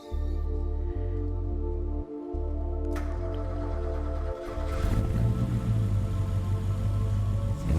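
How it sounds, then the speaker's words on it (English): Mercedes V8 engine in Gran Turismo Sport, a deep sustained rumble that holds steady through gear changes, then rises into a louder, rougher roar as the car pulls away, close and continuous with no talking. "listen to that engine go. Big V8."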